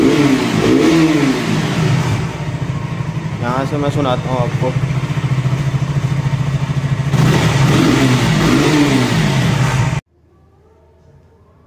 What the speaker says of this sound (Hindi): तो कुछ ऐसी साउंड है केटीएम आरसी की